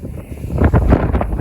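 Gusty wind buffets the microphone outdoors, a loud rumbling rush that swells and pulses.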